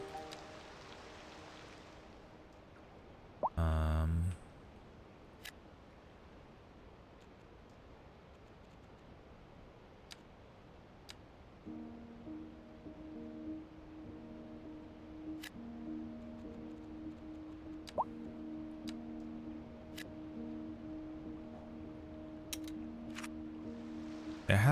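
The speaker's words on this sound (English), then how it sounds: "It has been raining the whole time" Steady, soft rain ambience from the city-building game Cities Skylines 2, a continuous hiss throughout with a brief louder burst early on and a low hum joining partway, no voices.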